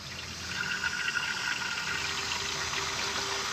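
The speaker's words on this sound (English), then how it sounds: "pretty much all that's left is to fill up the radiator here" Water pours steadily into the radiator of a 1936 tractor, a continuous hissing, gurgling rush heard close up for several seconds with no voices.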